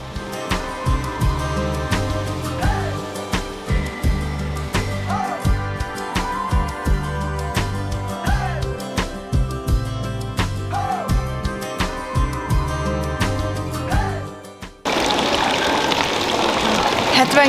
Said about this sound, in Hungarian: itt tör 12 méter magasra egyfajta gejzirként a 72 Celsius fokos víz